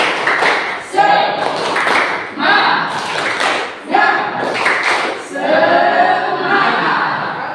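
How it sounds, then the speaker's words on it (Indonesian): A school physical education class does a rhythmic spirit clap chant, sharp bursts of group clapping in a repeating pattern, mixed with voices chanting in unison nearby. "Kita tepuk semangat dulu sebelum kita mulai akan pembelajaran pagi hari ini"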